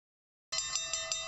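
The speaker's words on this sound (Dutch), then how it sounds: "klinkt de bel bij de slagbomen als teken dat deze gaan sluiten" A bright, ringing warning bell at the barriers of the Den Uylbrug bridge in Zaandam starts abruptly after half a second of silence and rings continuously, with steady metallic strikes and no voices.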